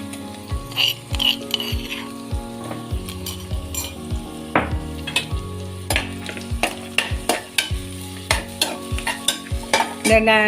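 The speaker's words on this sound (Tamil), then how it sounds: "வெங்காயம் நல்லா வதக்கிட்டு இப்போ நசுக்கி வச்ச இஞ்சி பூண்டு அதை போட்டு விட்றேன்" Onion frying in a pan with crushed ginger and garlic, steady sizzle under a regular rhythm of spoon or spatula scrapes against the pan, close and loud with no talking.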